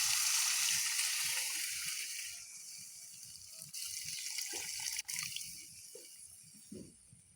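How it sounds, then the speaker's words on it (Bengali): Water pours from a tap or container into a curry, a steady splashing stream up close that tapers off, followed by faint drips and small knocks. "পরিমাণ মতো জল দিতে হবে।"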